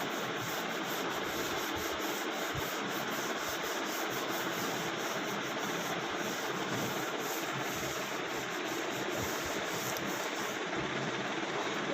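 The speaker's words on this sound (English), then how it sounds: "I rub the board" Steady broadband rubbing of a cloth or duster wiping a classroom board, continuous and even for the whole stretch with no pauses and no talking.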